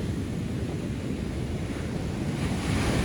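Strong southwest wind and crashing surf roar across a beach at the onset of the monsoon, a continuous broad rush of waves and gusts buffeting the microphone, with no talking.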